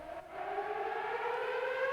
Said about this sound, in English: For this one in particular, I'm actually using a siren because it kind of has the same feeling.